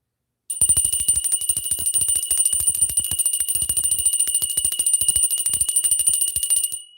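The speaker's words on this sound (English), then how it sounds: "I'm ringing the bell." A bright, steady electronic bell rings continuously at close range and high volume, a rapid trilling ring that starts abruptly after a short silence and carries on without a break, with no voices.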